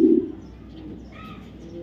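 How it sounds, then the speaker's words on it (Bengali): A BRPFC 2022 racing pigeon gives a low, throaty coo near the start, then fades under a quiet, steady background hum. "শকুনের মতো কবুতরটা।"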